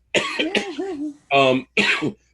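A person coughs several times in short harsh bursts, with voiced throat sounds between them, close and loud.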